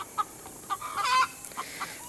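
A hen that has just laid an egg clucks in short, separate bursts, one drawn-out call in the middle, fairly faint over low background hiss.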